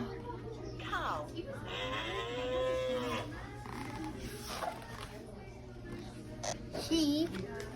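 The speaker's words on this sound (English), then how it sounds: "Cow. Cow." A farm cow gives a long, loud moo, followed by shorter lowing calls, with a child and an adult speaking around it.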